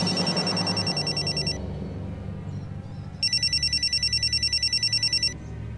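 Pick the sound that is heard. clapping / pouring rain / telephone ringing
telephone ringing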